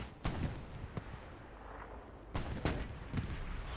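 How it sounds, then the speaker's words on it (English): Gunfire and heavy cannon shots hitting a Stuart tank in the World War II game Hell Let Loose, several sharp booming cracks spaced irregularly over a low rumble, no talk. "Stuart's getting shot."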